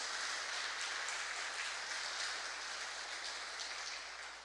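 A church congregation applauding during a sermon, a dense sustained wash of many hands clapping that fills the whole stretch and fades slightly toward the end, with no voices standing out.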